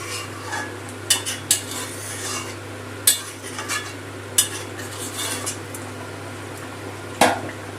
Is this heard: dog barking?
no